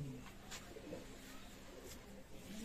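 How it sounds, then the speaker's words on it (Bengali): Pigeons cooing at a pigeon seller's coop, soft low coos repeating faintly over a quiet background hiss. "আপনারা লক্ষ্য করুন, অনেক ভালো মানের কবুতর।"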